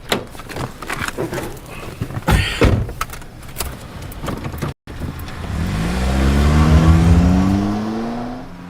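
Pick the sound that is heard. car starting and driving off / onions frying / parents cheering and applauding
car starting and driving off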